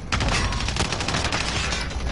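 Video game gunfire hits the player in a dense, continuous burst of shots. It sounds loud and close and carries on for a couple of seconds with no voices over it.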